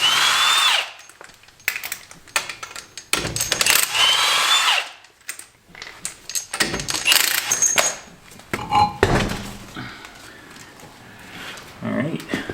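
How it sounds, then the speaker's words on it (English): An impact driver whirs and rattles in repeated short bursts, loosening lug nuts from a Jeep Compass wheel during a brake change, with clanks and a person talking in between. "I'm going to use an impact driver because I have one"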